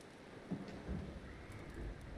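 Storm rain patters steadily in Red Dead Redemption 2, a faint, continuous wash of falling rain with a low rumble underneath, soft and distant, with no talking.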